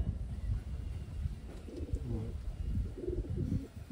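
Soft, low cooing of Taiwan-bred pigeons repeats in a throaty, rolling rhythm, close by, over faint background rustle.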